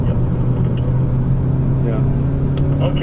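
A 2019 Mazda 3 with the SkyActiv-G 2.0 engine runs on the Sepang circuit, a steady low engine drone and road rumble heard from inside the cabin, loud and continuous.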